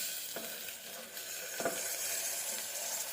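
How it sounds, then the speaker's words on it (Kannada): Onion and tomato frying in a pan, a steady close sizzle with two short scraping stirs, no voices. "ಈಗ ಆನಿಯನ್ ಫ್ರೈ ಆಗಿದೆ. ಸ್ವಲ್ಪ ಬ್ರೌನ್ ಆದಮೇಲೆ ಒಂದು ಟೊಮಾಟೊ ಸೇರಿಸ್ಕೊತಾ ಇದ್ದೀನಿ."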